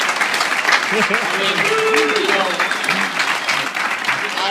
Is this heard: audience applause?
yes